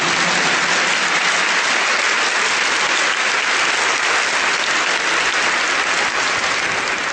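A church congregation claps loudly and steadily throughout, a dense, continuous wash of applause with no voices rising above it.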